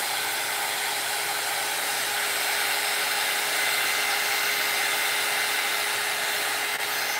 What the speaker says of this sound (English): heat gun smears my lines